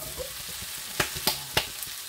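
Bell peppers dropped into hot fat in a pan, a soft continuous sizzle broken by a few sharp clatters and scrapes of stirring, close and fairly quiet.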